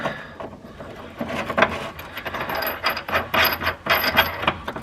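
A nylon bolt with a washer is tightened by hand on a K20 turbo AWD car build, heard as close, irregular clicking and ratcheting mechanical taps with small metallic scrapes, fairly loud and without speech.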